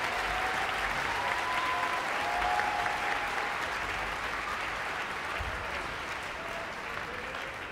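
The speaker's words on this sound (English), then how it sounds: "Let's give everyone a round of applause." A steady wash of audience applause at a high school music festival concert, many hands clapping continuously at an even level throughout, with a faint tonal hum underneath.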